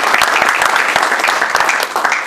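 Church congregation clapping to acclaim the Lord, dense sustained applause from many hands, loud and close throughout with no pauses.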